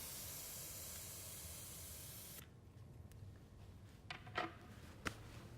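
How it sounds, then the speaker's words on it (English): Air hisses steadily out of a bicycle fork while an Allen key is pressed into the valve, then stops abruptly, followed by a few faint clicks and taps. "Just push in the Allen key and it will deflate"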